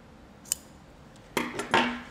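Scissors trimming fabric during sewing of a pillow, heard as a faint snip followed by a louder pair of crisp cuts close by, with no talking.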